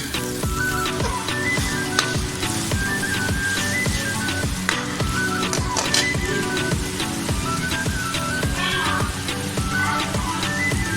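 Food sizzles steadily in a hot pan in a home kitchen, a continuous frying hiss with a regular tapping or stirring rhythm running through it and no voices.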